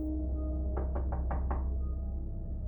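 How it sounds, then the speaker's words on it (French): Five quick, evenly spaced knocks strike a door at close range, sharp and distinct over a steady low hum, then silence returns. "C'est alors qu'on frappe à la porte."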